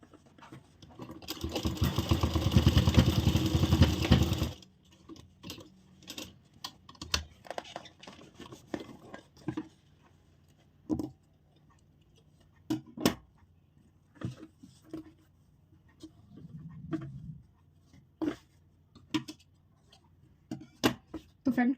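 A sewing machine stitches blouse fabric for a katori blouse in one loud, fast, continuous burst of a few seconds, then falls to scattered clicks and handling taps at close range, with a little low talk.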